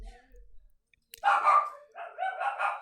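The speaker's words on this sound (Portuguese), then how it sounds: "tem muito cachorro latindo" Several dogs barking somewhere nearby, starting after a short quiet gap as a few loud overlapping barks with brief pauses between bursts.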